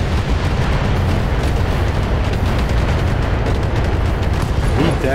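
Heavy artillery fire support pounds a target in the mech combat game Battletech, a dense, continuous barrage of booming explosions rumbling loudly throughout with no pauses.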